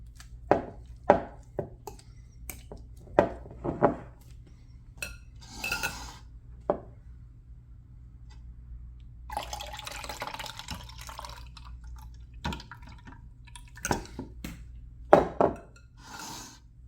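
Buttermilk drains from homemade butter in a kitchen, with scattered drips, clinks of a bowl and utensils, and a brief stretch of pouring liquid between quieter pauses.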